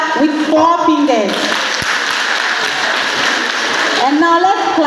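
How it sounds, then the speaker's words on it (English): An audience claps with four fingers during a motivational talk, producing a dense, fairly loud patter of many soft hand claps that rises after a spoken instruction and continues steadily, with a voice speaking at the start and end. "Let's clap with 4 fingers."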